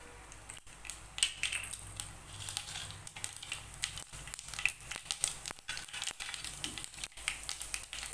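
Mustard seeds and chana dal fry in hot oil on a tawa, giving a steady, close crackling sizzle dotted with sharp pops and spatters throughout, with no talking.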